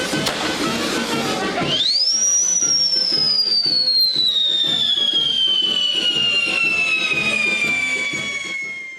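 A firework launches with a loud rising, then slowly falling whistle that holds for several seconds. Crackling bursts sit underneath, all part of the cavadduzzu folk tradition in which costumed men are covered in pyrotechnics.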